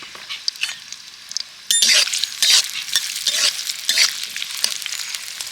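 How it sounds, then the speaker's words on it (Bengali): Chopped onion frying in mustard oil in a wok, a steady hiss with sharp bursts of sizzle as the pieces are stirred and scraped, close and fairly loud with no talking. "এবার আমি পেঁয়াজ কুচি দিয়ে দেব পেঁয়াজ কুচিটাকে ভালো করে ভেজে নেবো"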